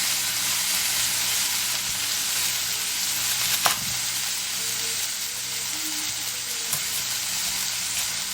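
Burger patties sizzle steadily in a hot pan, a loud continuous frying hiss with a brief clatter of stirring or a utensil partway through.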